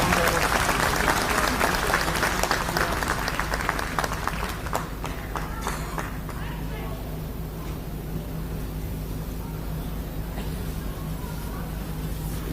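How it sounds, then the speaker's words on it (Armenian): Stormy applause from a church gathering fills the space loudly for the first few seconds, then thins into scattered claps and dense crowd murmur that continue steadily to the end. "բուռն ծափերով ողջունել"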